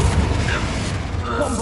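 A Confringo fire spell blast in a video game, a booming burst under a spoken voice, short and close with a rumbling low tail.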